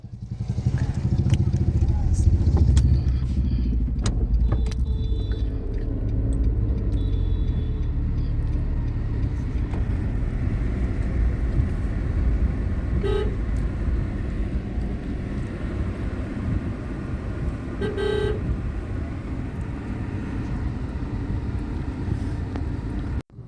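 Car travelling along a road in a village during a wedding, with a continuous engine rumble and road noise holding steady throughout and a few brief tonal honks early on and again near the end.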